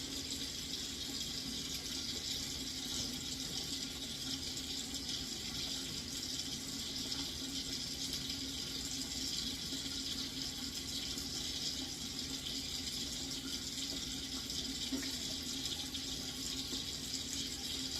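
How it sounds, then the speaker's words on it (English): Water runs steadily from a tap, a continuous faint hiss and splash with no talking. "I will now turn off the water."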